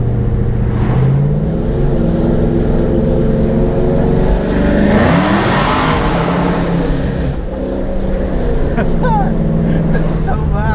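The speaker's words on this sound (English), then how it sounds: "See, this is the loudest you're going to hear this car." A loud, rumbling supercharged drag race car engine idles roughly and revs up sharply in the middle, close by and dominating the sound throughout.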